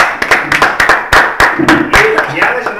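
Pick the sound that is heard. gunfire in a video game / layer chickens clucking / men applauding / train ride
men applauding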